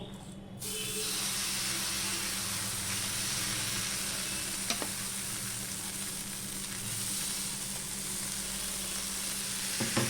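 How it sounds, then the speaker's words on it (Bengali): Battered pieces fry in hot oil with a dense, steady sizzle and hiss close by, a brief clatter midway, no talking. "এবার আমি এগুলো একটা একটা করে ভেজে নেব"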